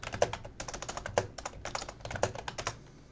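Rapid keyboard typing of a Minecraft time set midnight command, a close, steady run of crisp key clicks in short bursts with brief pauses, no voices.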